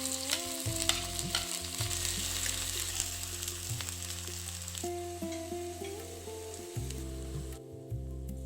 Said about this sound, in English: Add the chopped onion to the heated oil in the curry.